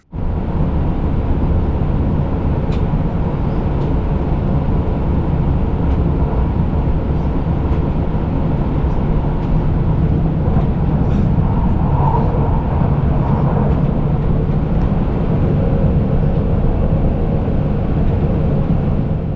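A continuous loud rumble of a passenger train on the Enz Valley Railway near Pforzheim, Germany, rolling along the tracks, steady and close, with faint rattling and clatter throughout.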